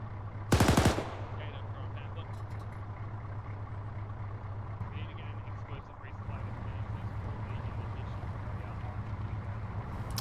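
In Arma 3, a single short, loud burst of automatic gunfire rings out nearby, then fades into a steady low engine drone that continues on its own for the rest of the stretch.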